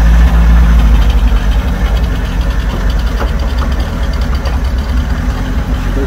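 A 1973 Commer campervan engine runs at a steady, loud, low idle with a constant rumble throughout, no voices over it.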